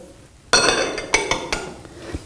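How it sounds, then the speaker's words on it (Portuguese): Yam, oats and other ingredients dropped into a blender jar: after a brief quiet, a clattering thud is followed by several sharp clinks and knocks of solid pieces and utensils against the jar. "Então vou colocar no liquidificador"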